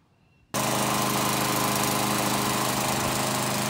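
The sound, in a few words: old lawnmower engine running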